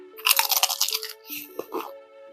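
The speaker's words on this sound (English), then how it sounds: "Beautiful crunch. Good Cool Ranch flavor." Someone bites into a crunchy Cool Ranch Doritos tortilla chip, giving a sharp, loud, close crunch followed by a few brief chewing crackles.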